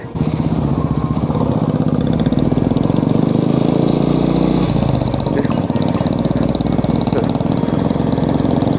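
A Royal Enfield Classic 350 motorcycle engine runs close by in sunshine, a loud, steady single-cylinder thump held throughout with no pauses or revving.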